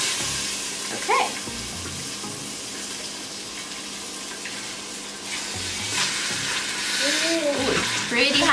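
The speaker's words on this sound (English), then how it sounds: "while I'm waiting for the chicken to cook" Chicken frying in a hot Cosori pressure cooker pot for lemon garlic chicken, a steady broadband sizzle running throughout with a few brief clinks and stirring sounds near the end.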